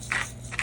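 A pepper mill cracking black pepper over eggs: two short, quiet, close-up grinding rattles with a brief pause between them.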